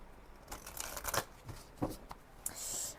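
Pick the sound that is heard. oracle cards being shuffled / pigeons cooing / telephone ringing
oracle cards being shuffled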